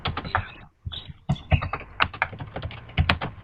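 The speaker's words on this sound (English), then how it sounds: "is typing away, isn't he?" Rapid typing on a computer keyboard during an online call, dense irregular clacks and key taps close to the microphone, continuous with a brief pause near the start, no talking.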